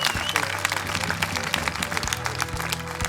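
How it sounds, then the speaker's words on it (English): A large crowd roars and cheers continuously, with applause and shouting blended into a dense, loud wash of noise. "Listen to the crowd freaking out."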